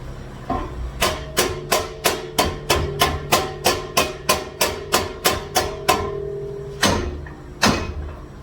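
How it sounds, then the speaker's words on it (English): A light hammer taps a metal corner of a custom base stand in a steady, quick rhythm of about sixteen ringing strikes, then pauses before two more separate taps, close by. "then I'm just give it a little tap with the hammer"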